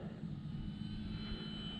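Hacker XL Zoom RC profile plane in flight, a steady continuous engine drone with a strong low-frequency hum, close and even in level throughout.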